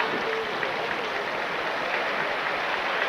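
A weightlifting arena crowd at a 1999 world championship session in the 62 kg class applauds steadily, a dense, continuous wash of clapping that fills the whole stretch without pauses.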